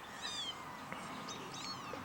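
A small kitten gives a few thin, high meows in quick succession, close and fairly faint, over low room noise.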